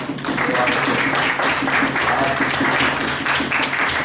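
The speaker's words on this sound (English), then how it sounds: "And big applause and for you all." Evening contest audience applauding, dense sustained clapping from a roomful of people that carries on steadily throughout at moderate loudness.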